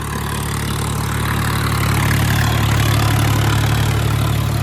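Tractor engine running a rotavator: a steady, loud, low droning engine with a constant hum and broadband rumble, continuous and close, with no talk.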